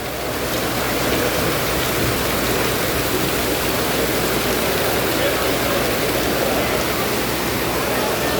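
A downpour in Biñan, Laguna roars steadily as a broad, unbroken wash of rain noise, close and loud for several seconds without letup.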